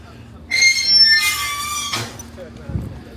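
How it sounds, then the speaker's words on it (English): A train's wheels squeal loudly on the rails for about a second and a half, then the noise drops to a low rumble with a faint thump, as two trains pass on a railway in Wales. "2 trains passing there."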